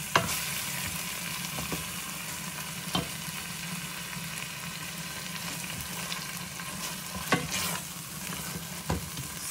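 An eggplant and dried seafood stew simmers in a pot, giving a steady bubbling sizzle with occasional soft clicks and stirring knocks, close and moderately loud, with no talking.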